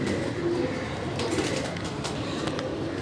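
Pigeons on a Karachi rooftop coo softly against a dense, steady wash of outdoor noise, several birds fairly close, with faint higher chirps now and then and no talking.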